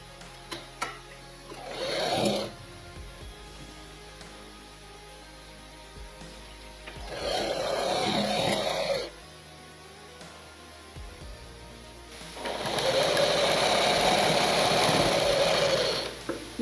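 A sewing machine stitching blouse lining fabric runs in three separate bursts, each a few seconds of fast whirring, the last the longest, with quiet pauses between.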